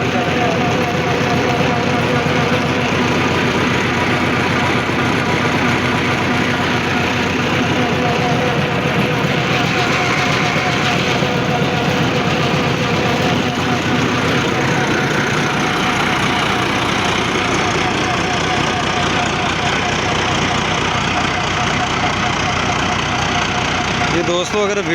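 A 2023 Massey Ferguson 385 tractor idles with a constant, loud, close diesel rumble that runs without a break, while someone talks over it throughout.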